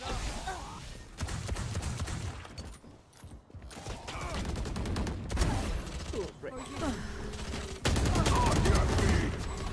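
Valorant firefight on the Split map, with bursts of rifle fire and clattering mechanical clicks from weapons, plus loud impacts, under excited voices of players talking.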